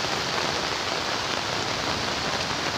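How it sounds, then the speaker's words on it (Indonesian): Fast-flowing floodwater rushing knee-deep from the direction of a forest during a flood in eastern Cirebon, a dense, continuous loud roar with no pauses. "Ini kencang banget airnya."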